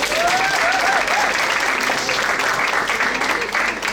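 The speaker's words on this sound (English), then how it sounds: "Professor Adisa, give her another round of applause." Sustained applause from an audience at a book festival creative writing master class, a dense steady wash of clapping hands lasting throughout, with a few faint voices in the crowd.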